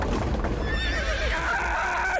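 Horse neighing in a battle scene of the Napoleonic wars, a loud, close, wavering whinny that runs for a couple of seconds over a dense low rumble of hooves and noise, without speech.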